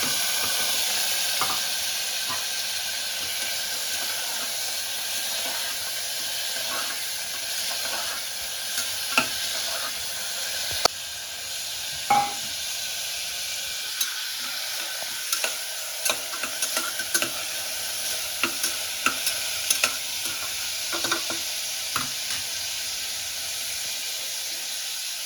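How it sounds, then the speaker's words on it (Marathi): Onions sauté in a hot pan for moong dal khichdi, a steady bright sizzle and hiss running throughout with occasional soft clicks and scrapes from stirring, close and even. "आता आपण त्यामध्ये कांदा टाकून घेऊयात आणि तो छान लालसर होईपर्यंत छान परतून घ्यायचा आहे"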